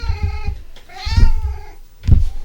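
A house cat meows close by, several drawn-out cries with low thumps and soft handling noise between them, and a few short calls before a longer, louder one.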